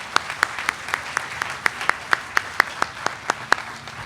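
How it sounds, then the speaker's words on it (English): Audience clapping at an award gala comes across as a steady series of about sixteen single claps, evenly spaced and fairly close, over a low background murmur. "So a round of applause to everyone who's involved in this"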